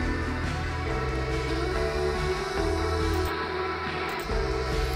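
Dense music with a muffled, lo-fi micro cassette tape quality from a cassette emulation plugin, playing continuously and fairly loud with a slightly dulled top end.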